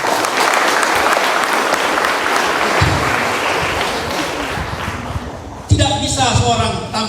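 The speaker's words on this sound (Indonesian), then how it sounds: "Tepuk tangan untuk sekali lagi" A crowd at a student organization's inauguration and farewell ceremony breaks into sustained, dense applause that fills the room for several seconds, then a voice speaks over the fading claps near the end.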